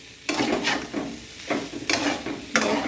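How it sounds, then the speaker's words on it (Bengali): Egg chowmein with vegetables stirred in a pan with little oil: repeated scraping, tossing strokes about every half second over a steady soft sizzle, close and fairly loud, no talking. "ভালো করে নেড়ে নিচ্ছি"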